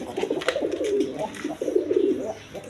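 Quality coloured pigeons, both fancy local and imported breeds, coo close by in two rolling throaty phrases, steady and moderately loud with faint background noise.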